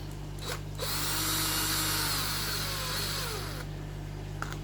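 A power drill whirs steadily for about three seconds as it drives a screw through aquarium driftwood, loud and close, with brief clicks just before and after the run.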